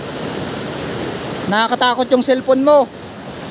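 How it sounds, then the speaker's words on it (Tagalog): Strong river water rushes with a loud, steady roar throughout, close and unbroken, while a person briefly speaks over it. "lumalakas na ang tubig. Hindi na ito normal."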